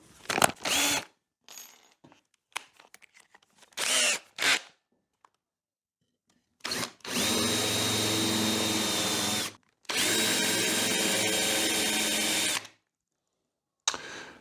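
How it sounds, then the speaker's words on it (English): A power drill countersinks a hole in wood. It gives a few short, quiet bursts, then two loud, sustained runs of a few seconds each, heard close up with no speech. "what I need to do is countersink from this side"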